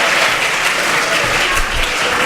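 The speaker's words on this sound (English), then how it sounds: "Give yourselves a round of applause for being a model of audience behavior." An audience at a political conference breaks into applause, a dense, sustained clapping from a large crowd that fills the space evenly, loud and continuous with a few faint voices mixed in.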